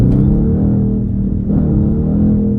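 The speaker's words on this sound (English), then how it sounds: "It open up the exhaust. Like, the exhaust gonna sound totally different." A loud car engine revs through an opened exhaust, rumbling steadily with a deep, throaty tone, idling and rising slightly, close to the listener.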